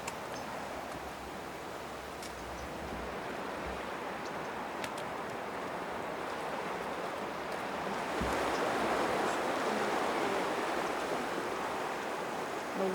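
Gentle water lapping with broadband wash near a railroad track, steady and moderately faint, swelling slightly louder in the latter part, with no talk.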